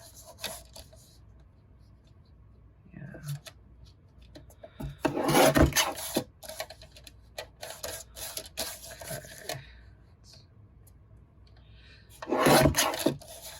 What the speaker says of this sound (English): I'm gonna cut just about 1/8 of an inch off of each side